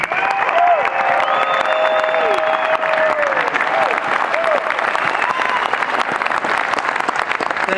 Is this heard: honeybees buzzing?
no